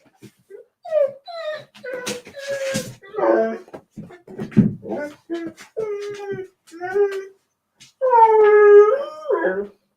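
A dog whines and howls in a series of rising, drawn-out cries with short yips between, close and fairly loud, ending in a longer wavering howl.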